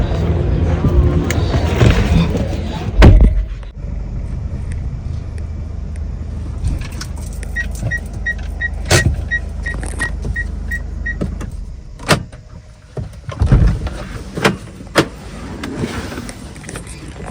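A car moves slowly and comes to a stop to park, with steady road and engine hum, a few knocks and clunks, and electronic beeping partway through.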